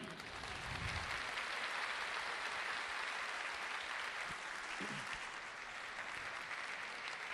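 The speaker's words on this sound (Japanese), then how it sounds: "では皆さん大きな拍手でお出迎えください" A packed hall of Nagoya Grampus supporters claps steadily and loudly for newly signed players at the club's 2020 new-team presentation event, a dense, even wash of applause lasting the whole stretch with only faint crowd murmur.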